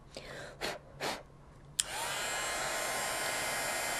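Gold embossing powder melts under a heat tool for card crafting. A couple of soft rustles come first, then a click as the tool switches on and a steady, close blowing whir holds to the end.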